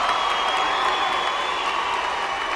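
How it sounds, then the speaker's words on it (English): A crowd at a high school boys basketball championship game cheers and applauds a player, a steady broad roar of clapping and voices filling the gym at a moderate distance. "Let Craig Bradshaw get a big round of applause"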